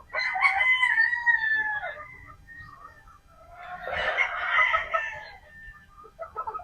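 Sweater gamefowl pullets in a pen of about thirty birds, clucking and crowing in drawn-out calls, two main bursts with a short quiet gap between, fairly close and moderately loud.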